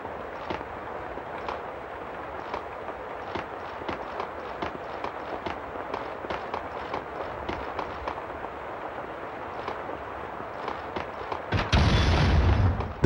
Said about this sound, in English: The sound of an explosion came from the direction of my apartment